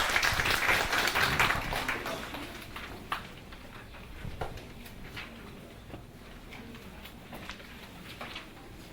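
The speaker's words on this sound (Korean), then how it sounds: "박수를 맞아주시죠." An audience at a seminar on village education communities and lifelong learning claps for a speaker, loud for the first two seconds and then thinning into a few scattered claps over faint room noise.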